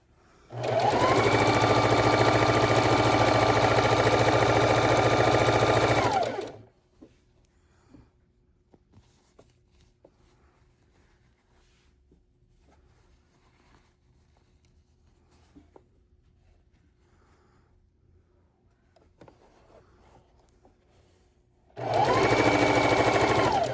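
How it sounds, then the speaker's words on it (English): A sewing machine stitches quilt patches together, running in a steady, loud, close whir for about six seconds, then stopping through a long quiet stretch before starting up again near the end. "we're just going to nest those seams in the middle and sew these together"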